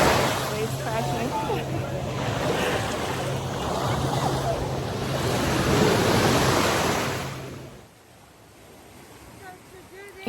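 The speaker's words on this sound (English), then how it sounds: "Waves crashing." Ocean waves crash on a beach in Cozumel, Mexico, a loud, rushing surge that builds and then recedes to a quieter wash near the end, with faint voices in the background.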